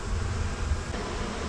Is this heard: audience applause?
no